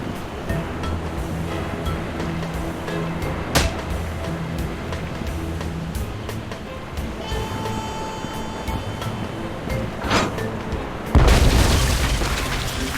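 A cannon fires in the pirate adventure game Tales of Monkey Island, a sudden heavy boom with a sustained roar near the end, following ambient ocean surf and scattered clanks.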